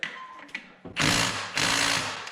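A small Milwaukee power tool working on stubborn engine bolts of a BMW S1000RR motorcycle, a few quick clicks followed by two loud sustained bursts of impact-driver rattling.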